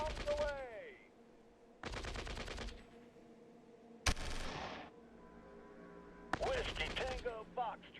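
Airstrike in the strategy game Shadow Empire: four loud, sharp bursts of rapid gunfire-like cracks and blasts, separated by quieter pauses, with a low rumble and faint ringing tones underneath.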